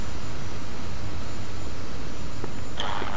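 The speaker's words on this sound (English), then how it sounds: "Aircraft, we had airplanes coming" Aircraft fly over in a video game combat operation, heard as a loud, continuous engine roar with a rising hiss near the end and no voices over it.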